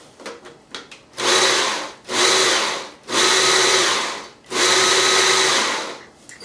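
Cabbage is chopped finely for coleslaw in four loud, whirring bursts of a couple of seconds each, separated by short pauses, with no speech.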